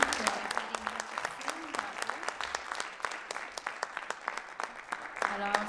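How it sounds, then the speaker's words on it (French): Audience at a Canadian school spelling bee claps for the participating students, a sparse, uneven patter of hands close by, with someone speaking over it. "Alors, nous applaudissons ces élèves qui ont super bien travaillé."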